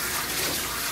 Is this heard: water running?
yes